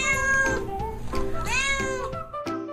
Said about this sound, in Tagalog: Lalo na kapag nagmeow sila at nilalambing ka.